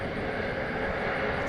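A jet airplane at DFW Airport gives a steady, broad engine roar from a middle distance, unbroken across the short stretch with no talk.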